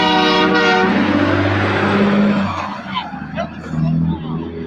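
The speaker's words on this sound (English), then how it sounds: "That was a damn train horn" A loud, close train horn blares with a steady harmonic tone for about two and a half seconds, then fades into rumbling and background noise with people talking.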